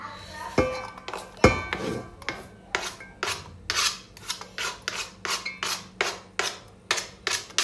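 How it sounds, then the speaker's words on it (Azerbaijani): Chopped greens and onion for Azerbaijani kuku are scraped into a bowl in a home kitchen, making a quick, regular series of close rasping, rubbing strokes. A few light clinks come near the start. "Mən baxın belə doğradığım hamısını əlavə edəcəm bu qabın içərisinə."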